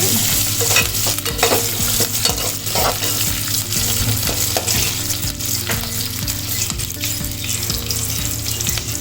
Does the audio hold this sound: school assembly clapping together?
no